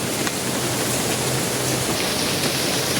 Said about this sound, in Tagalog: Walang malakas na hangin at ambon lang pero tuloy-tuloy.